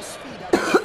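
A single harsh cough bursts out close to the listener after a moment of quiet background noise.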